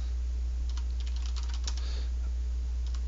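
Quick bursts of key clicks on a computer keyboard, close and fairly quiet over a steady low electrical hum, with a dense flurry in the middle and scattered taps toward the end.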